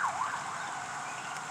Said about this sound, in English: Oh, the siren's kicking off.